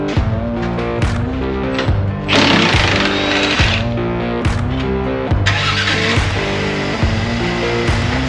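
A Ford F-250 pickup truck engine cranking and firing in rapid rhythmic pulses, rattling steadily with a surge of harsh noise midway, close to the listener.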